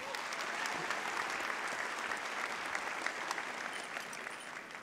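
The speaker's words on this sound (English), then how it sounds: "Give her a round of applause" Sustained applause from a graduation ceremony audience, dense even clapping filling the whole stretch at steady moderate loudness with no talk over it.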